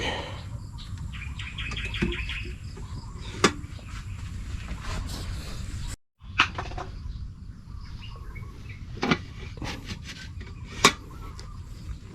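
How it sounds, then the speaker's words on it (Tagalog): Birds chirp sporadically outdoors, a few sharp, bright calls scattered over a quiet background. "Ingay ng ibon."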